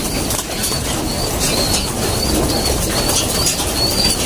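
Racing pigeons flap their wings nearby, a continuous fluttering rush under steady outdoor background noise, with no talking.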